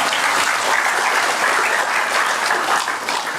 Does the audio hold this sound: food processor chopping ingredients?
no